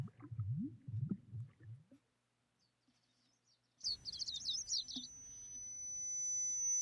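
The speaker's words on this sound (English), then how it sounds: "I hear the sound of treetops rustling in the wind, the sound of birds chirping." Ambient game audio from a visual novel. Low soft rumbling fades to near silence, then a brief cluster of faint, high bird chirps sounds over a quiet background hum.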